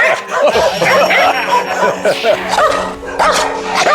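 Several dogs at a construction company's animal shelter barking aggressively, with dense overlapping barks, yips and whimpers close by throughout, plus some human voices mixed in.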